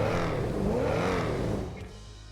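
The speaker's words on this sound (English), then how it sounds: "your eardrums will be rewarded with the crackled growl of a fire-spitting V8" Ocelot XA21 from a video game with a fire-spitting V8 revs hard, a loud rising and falling growl with gliding harmonics that fades off toward the end.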